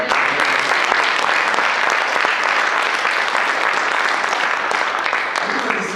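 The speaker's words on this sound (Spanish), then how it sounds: "¿Cuánto le damos palmas al Señor," A church congregation claps together in sustained, dense applause during a Spanish-language sermon, loud and continuous throughout, with voices mixed into the clapping.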